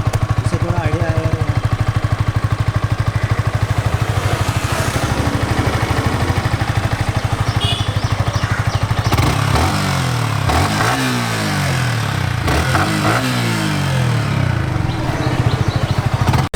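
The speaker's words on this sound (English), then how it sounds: "I'm starting the bike, it's on neutral." A motorcycle in neutral idles with a loud, close, steady throb that is repeatedly revved up and dropped back to idle, while a person speaks at times.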